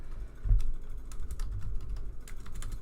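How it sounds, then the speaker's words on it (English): Typing on a computer keyboard, a quick irregular run of soft key clicks and taps close by, fairly quiet under a low background hum, with no talk. "I can't type whatsoever, so excuse my typing skills"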